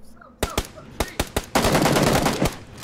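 Gunfire in a battle royale video game: several sharp, loud single shots ring out, then a sustained burst of rapid automatic fire, all close and with no talking over it.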